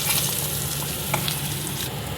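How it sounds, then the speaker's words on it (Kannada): Paneer fries in ghee with turmeric and chili powder, a close, steady sizzle with a few faint stirring scrapes and no talking. "2 ಟೇಬಲ್ ಸ್ಪೂನ್ ತುಪ್ಪ ಹಾಕೋಣ ಪನ್ನೀರ್ ಫ್ರೈ ಮಾಡೋಕ್ಕೆ."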